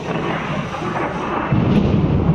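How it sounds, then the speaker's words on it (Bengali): Thunder rolls during a dark storm, a loud, continuous low rumble that swells slightly toward the end, with no voices heard. "আমার বাজ পড়ছে মানে জাস্ট আমি অবাক হয়ে গেলাম এখানে এরকম ওয়েদার দেখে"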